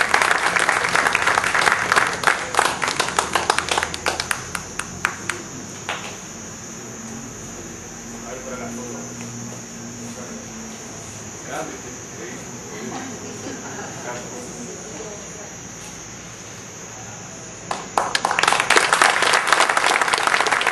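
Audience applause at a ceremony honoring historians, broad clapping at the start that fades into a quiet room with faint murmurs, then a fresh burst of clapping near the end.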